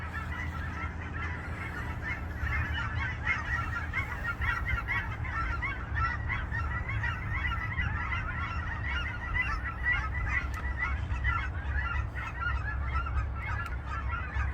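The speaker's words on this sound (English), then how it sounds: "You can probably hear the ducks from here." A dense flock of ducks honking continuously, many overlapping calls at a steady moderate distance over a low rumbling background.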